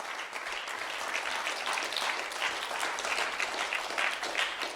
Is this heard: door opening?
no